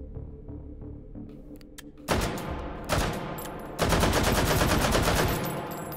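AVT rifle in H3VR fires in full auto: a quiet lead-in, then loud, close bursts of rapid shots, with a short pause and a longer sustained burst at the end.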